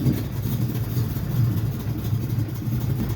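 A Dodge Little Red Express clone truck's engine idles steadily with a low, even rumble throughout, running a little weak, with no voices over it.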